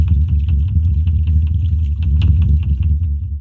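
Water hammer in residential water pipes: a continuous low rumbling drone with rapid irregular knocking and rattling throughout, loud and steady, no talking.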